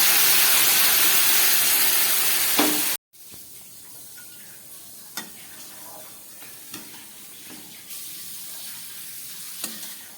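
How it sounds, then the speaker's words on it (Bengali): Warm water hits hot fried spices in a pan for a fish curry with a loud, steady hiss and sizzle for a few seconds, then cuts off abruptly and leaves a soft simmering bubble with occasional light clinks. "এবার আমি দিয়ে দিচ্ছি পরিমাণ মতো উষ্ণ গরম জল"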